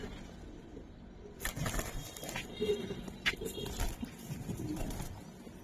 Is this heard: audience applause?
no